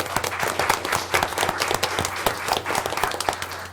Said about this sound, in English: Could you please join me in a round of applause for our SNP program?